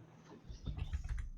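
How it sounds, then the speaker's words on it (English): Quiet typing on a computer keyboard during a tabletop gaming session, a brief patter of soft key taps, close and faint, with no voices. "That's why I'm typing"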